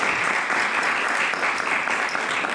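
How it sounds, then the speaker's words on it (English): Dense, steady applause from an audience at a book launch and awards evening, clapping for the caterers who served the food, filling the room evenly for the whole moment. "I love that they get their own applause."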